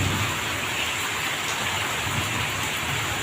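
Heavy rain pours down steadily in Chakmahsi, Kalyan Pur, Samastipur, Bihar, a dense, unbroken hiss of falling water with no voices.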